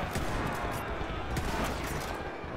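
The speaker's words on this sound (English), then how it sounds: "Got freaking machine guns going wild stuff." Dense, continuous gunfire in a Mount & Blade Warband battle, rapid machine-gun bursts and heavier artillery blending into a loud unbroken roar with no gaps.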